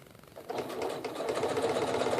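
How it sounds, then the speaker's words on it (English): A Janome Skyline S7 sewing machine stitches basketball vinyl under a teflon foot, its needle starting up after a brief quiet moment and then running in a fast, smooth, close whirring patter with no talk. "It seems to be sewing a lot smoother on the basketball vinyl."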